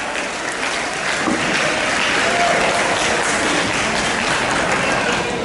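A church congregation at a wedding ceremony breaks into loud, sustained applause, a dense wash of many hands clapping steadily from start to end with some voices underneath.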